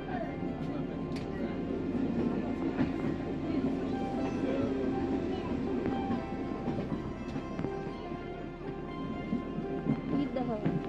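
A train on the Budapest hill children's railway in the Buda hills rumbles steadily as it moves, a continuous low rolling noise with faint clicks and murmuring passenger voices in the background.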